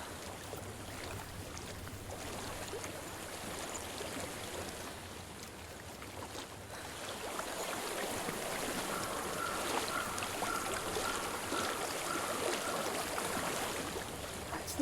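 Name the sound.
flowing stream water in Hellblade video game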